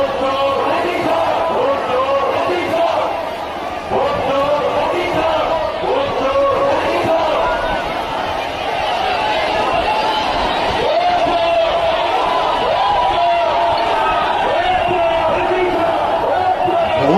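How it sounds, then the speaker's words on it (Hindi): A large crowd at a political rally chants the 'vote chor' slogan in loud, rhythmic repeated shouts, a dense continuous roar of many voices throughout. "वोट चोर का नारा अलग से गूंज रहा"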